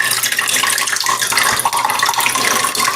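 Water pours steadily out of a container, a loud, continuous splashing gush with no break for several seconds.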